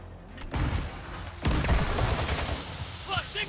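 Gunfire in a video game shooter, bursts of rapid shots and booms in two loud waves with game sounds and some talk mixed in.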